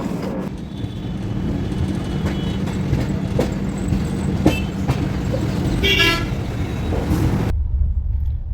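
A train stands on a railway bridge amid a steady rumble of rail and traffic noise, while a horn gives a short, loud toot near the end before the sound cuts off.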